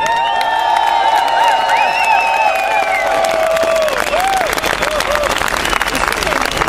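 Outdoor crowd at a Monday vigil street protest breaks into applause mixed with cheers and whoops, steady and loud, with shouted voices rising over the clapping early on.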